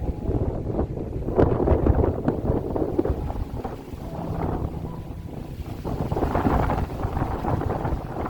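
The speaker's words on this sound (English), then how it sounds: "there's some strong gusts going across the lake there" Strong wind gusts roar across a lake in the Wheeler Peak Wilderness, rising and falling in waves of rushing noise with no voices.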